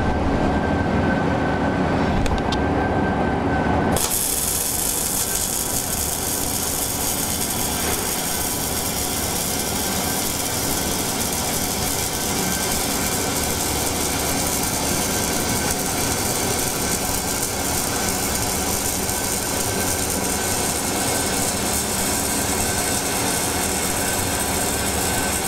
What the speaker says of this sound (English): we're going to weld with it on heavy mill scale and see how this product reacts